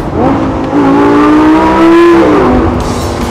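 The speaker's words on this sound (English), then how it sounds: "I'm driving a 2013 Lamborghini Gallardo." A 2013 Lamborghini Gallardo LP552 Spider on the move, its engine note holding a steady tone, then rising and falling as it revs under way, loud and close.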